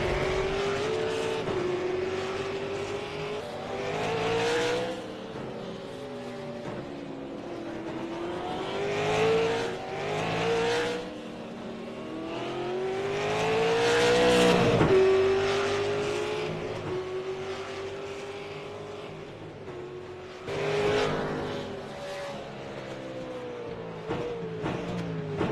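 Race cars roar around a track near the finish line on a final lap, engines loud and continuous with rising and falling revs as cars pass close by, occasional surges and tire noise.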